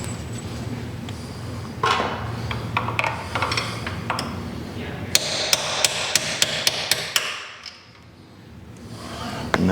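A stainless rod is hammered against a grommet on a Harley motorcycle, first as scattered knocks and then as a run of sharp, evenly spaced metallic strikes, close and loud before a short quiet gap.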